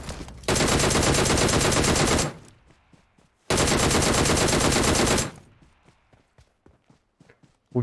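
Two long, loud bursts of automatic gunfire in PUBG Mobile, separated by a short pause, each followed by quieter scattered clicks and thuds.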